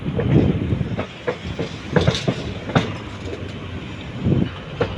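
A train arriving at Karur station on platform one rolls along with rhythmic clickety-clack of wheels over rail joints, loud and close, the clatter rising and falling as carriages pass.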